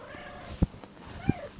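A cat gives two short, close meows about half a second apart over a quiet indoor background.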